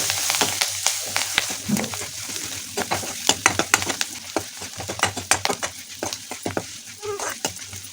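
Curry leaves and green chillies sizzle in hot oil for a tempering, a loud crackling hiss broken by sharp spatters and a utensil stirring, with no talking.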